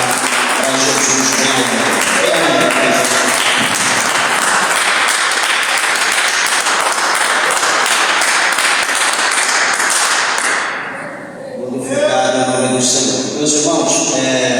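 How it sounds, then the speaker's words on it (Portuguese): Church congregation giving a loud, sustained round of applause for Jesus, dense continuous clapping and cheering for about eleven seconds before tapering, with singing or voices resuming afterward. "dê uma salva de palmas para Jesus"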